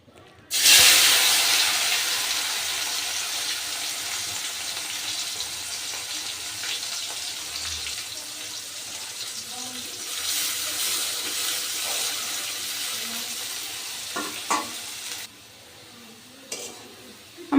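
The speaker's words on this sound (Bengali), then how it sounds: "এই মাছ ভাজার তেলে এই পেঁয়াজগুলো আমি বেরেস্তা করে নেব" Onions dropped into hot fish-frying oil burst into a loud hiss, then settle into a steady crackling sizzle broken by a few stirring knocks, the sound easing off toward the end.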